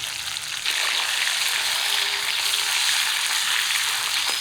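Pieces of hilsa fish frying in very hot mustard oil in a wok, six pieces at once, giving a steady, dense sizzle that holds strong and even throughout, with no voices.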